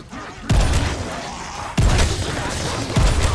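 Three heavy gunshot-like booms from Call of Duty: Vanguard Zombies land about a second apart, each followed by a rumbling, noisy tail.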